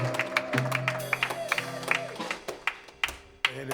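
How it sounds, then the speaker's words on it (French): A church congregation at a Sunday service claps for itself: scattered, sharp individual claps ring out in an uneven rhythm over a low, sustained hum, with some murmuring voices underneath. "Vous pouvez vous applaudir vous-même."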